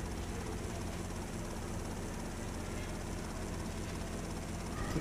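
Helicopter chasing the player in GTA Vice City, a dense, steady rotor and engine roar filling the whole stretch at constant loudness, with no talking.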